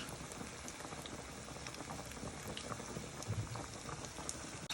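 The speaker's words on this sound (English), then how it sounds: "you're turning them over with your tongs" Buttermilk-battered steaks sizzle and bubble steadily in hot frying oil, a dense, even crackle with a few faint clicks as tongs turn them over.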